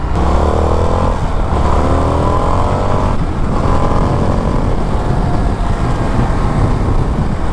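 An Indian FTR 1200 Carbon flat-track motorcycle ridden hard in sport mode, its engine loud and close with rising revs and gear changes over steady wind rush, no talk.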